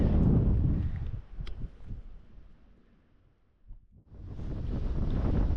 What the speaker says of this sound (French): je suis en plein vent